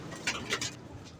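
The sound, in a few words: Indian Zakh and Lakha pigeons cooing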